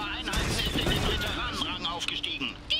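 Rifle fire from infantry squads in the dieselpunk strategy game Iron Harvest, a dense battle clatter of overlapping shots and impacts beneath a game music bed, with someone talking over it.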